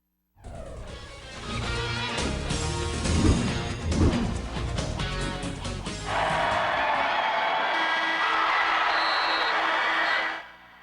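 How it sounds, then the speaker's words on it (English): A crowd roars and cheers as a basketball buzzer beater wins the game against Boise State, loud and sustained from start to finish, with a brief crash of noise before the cheering. "That's the sound of Marlene Anyambosu sinking a buzzer beater to win the game against Boise State"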